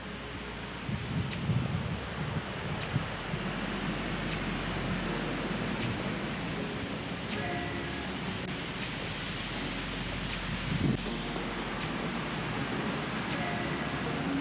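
A strong atmospheric-river windstorm on a homestead roars in a steady, dense outdoor rush with faint rustling and a few small clicks, without letup throughout.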